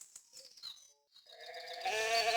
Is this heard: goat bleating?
yes